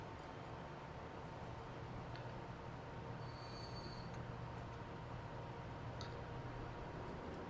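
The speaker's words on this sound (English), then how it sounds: "And then the train had to slow down for the turn into the station." A passenger train in the video game Transport Fever 2 slows into a station on a curve, giving a steady rolling rumble with faint high wheel squeals, continuous and moderately distant.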